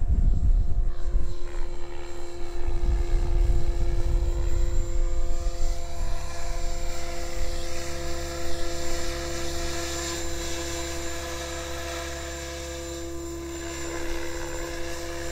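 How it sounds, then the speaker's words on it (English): Radio-controlled model helicopter flying at an RC field, a steady whining rotor and motor drone with sustained tonal harmonics, loud at first and gradually easing as it moves farther off. "Beautiful helicopter."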